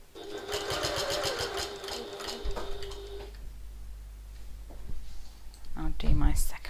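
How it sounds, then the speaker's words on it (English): A domestic sewing machine runs in a quick rapid stitching burst while basting handbag seam allowances together, then stops; someone speaks afterward. "So baste these seam allowances together along the bottom."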